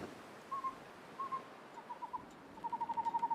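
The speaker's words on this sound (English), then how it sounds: "that's an interesting bird noise" Bird calls in The Long Dark's Mystery Lake area, a series of clear whistled hoots repeating at a moderate distance, sparse at first and then quickening into an even run of notes near the end.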